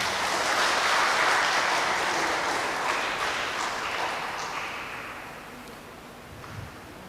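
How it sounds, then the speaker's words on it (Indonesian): Sustained applause from a congregation for a newly married couple at a Catholic church wedding, loud and continuous at first, then gradually thinning and fading toward the end. "Mari kita beri aplaus kepada mereka."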